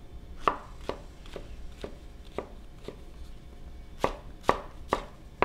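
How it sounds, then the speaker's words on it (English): A knife chops mushrooms roughly on a cutting board, giving about a dozen crisp, close knocks at an irregular pace with short pauses, and nothing else heard. "we're just kind of looking for like a very small rustic chop. So do this with all your mushrooms."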